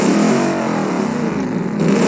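A 1990s track car engine in the BeamNG.drive driving game holds a sustained high rev, a loud, steady buzzing drone with a slight dip and rise in pitch over a couple of seconds.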